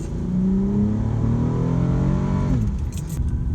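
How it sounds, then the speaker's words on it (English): An Acura MDX with an aftermarket exhaust revs up with a throaty, rising growl, holds, then drops back to a rumbling idle, loud and close. "I'm gonna go ahead and give it a little gas real quick."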